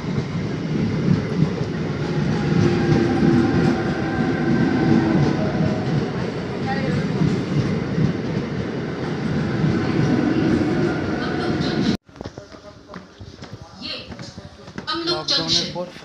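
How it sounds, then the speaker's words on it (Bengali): A train pulls into a station near Haldia with a loud, continuous rumble and rolling wheel clatter for about twelve seconds. It then cuts abruptly to quieter platform noise with voices nearby. "ওকে ট্রেন আসছে এবার।"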